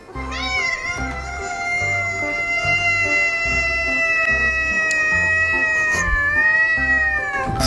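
A pet cat meowing loudly and close, drawn-out wavering cries that rise and bend in pitch, repeated over several seconds with a low rhythmic hum and faint voices underneath.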